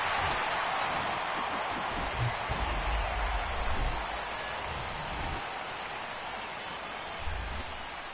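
Steady heavy rain pours over a baseball ballpark in Cotterville during a playoff game, a dense, continuous hiss with no voices, holding an even level for the whole stretch.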